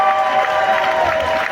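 A crowd at a Gabonese political rally welcoming the president of Alternance 2023 with dense, loud applause and cheering, a continuous roar of clapping and voices filling the whole short moment.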